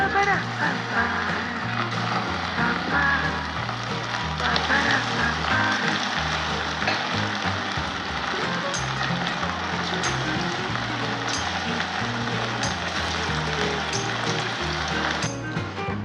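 Chicken frying in sesame oil for Tirunelveli chicken varuval, a steady loud sizzle crackling continuously under occasional voice.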